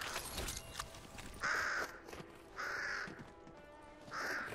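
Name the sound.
crows cawing in the video game Fortnite Save the World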